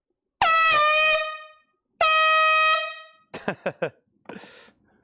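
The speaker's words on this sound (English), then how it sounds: "here comes the air horn" Two long, blaring air horn blasts sound up close and very loud, followed by a few short sputtering toots as the horn weakens and leaks from being held sideways.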